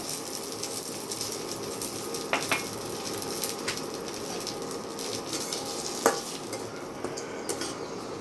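Semolina and oats dry-roast in a pan with a soft, continuous hiss, broken by occasional scraping and light clicks as they are stirred, all fairly quiet.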